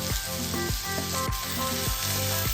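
Tomatoes and green chillies frying in a pan, a loud, constant sizzle close up, with a regular tonal hum pulsing underneath.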